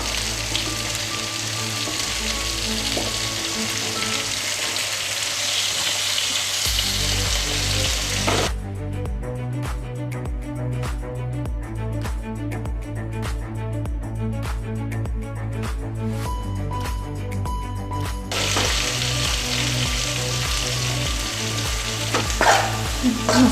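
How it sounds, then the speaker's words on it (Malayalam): Chicken frying in a pan with masala for a chicken curry, a loud, continuous close sizzle with steady crackle, a low hum coming and going, no talking. "ഇവിടെ ചിക്കൻ ഇവിടെ റെഡി ആയിക്കൊണ്ടിരിക്കുന്നു. ഏകദേശം പൊരിഞ്ഞിട്ടുണ്ട്."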